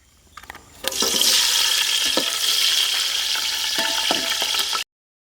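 Chopped green chillies hit hot oil in a pan for biryani with a sudden loud sizzle that stays steady and close, with scraping stirs of a spoon breaking through before cutting off abruptly.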